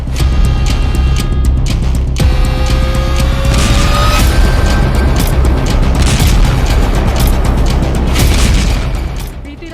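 Bombs exploding in airstrikes on Hezbollah positions in Lebanon, a very loud, sustained roaring rumble of blasts and booms with rising whistling tones, dense and continuous until it fades at the end.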